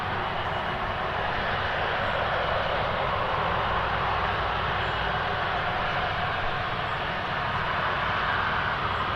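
A Jet2 passenger jet, flight 921, roars overhead, a loud, steady broadband engine rumble holding unbroken throughout.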